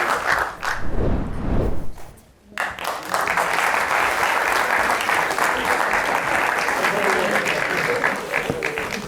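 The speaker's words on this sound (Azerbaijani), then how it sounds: "Alqışlarınızla biraz gurultulu" An audience bursts into loud, sustained applause at a comedy sketch show, a dense wash of clapping that runs almost unbroken after a brief lull near the start.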